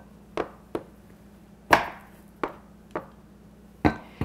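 A knife chops through blocks of chocolate and vanilla coating on a cutting surface, giving about eight sharp, separate knocks at an uneven pace, close and clear with no talking.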